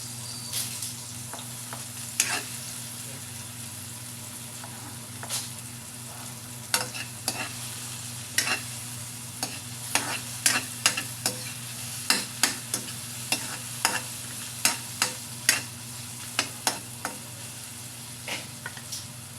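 Onions frying in a pan as a steady, close sizzle, punctuated by frequent sharp pops and ticks that grow busier as the cooking goes on.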